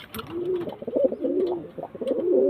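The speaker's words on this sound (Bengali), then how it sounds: "এই যে স্ট্যান্ডিং কোয়ালিটি পায়রা দেখুন" Standing-quality pigeons coo in repeated throaty, rolling phrases, close and clear, with a few soft flutters and no talking.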